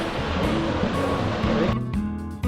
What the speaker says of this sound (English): Seeing this beautiful waterfall up this close makes this waterfall different from all the other waterfalls